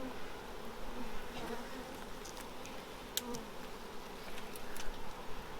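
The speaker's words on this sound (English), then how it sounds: "The bees are actually attacking my fingers." Honey bees swarm and buzz around an open hive during an inspection of brood and honey frames, a steady dense drone close by with a few sharper passes near the ear.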